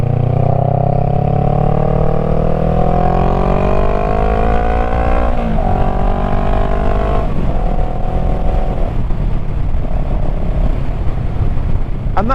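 A Honda Rebel 500 cruiser motorcycle is ridden along, its engine note loud and steady, rising in pitch as it accelerates through a couple of gear changes before settling into a rougher, lower drone.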